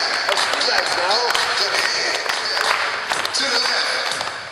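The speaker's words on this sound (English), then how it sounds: "Everybody clap your hands." A gym full of children and families at an elementary school fitness night clapping together, steady dense applause under loud overlapping voices and shouting in a big echoing room.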